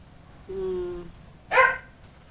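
A dog gives a drawn-out whine, then a short sharp bark, fairly close in a quiet room.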